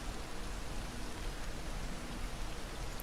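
Rain in the Path of Titans game falls as a steady, even hiss of droplets, soft and continuous with no voices.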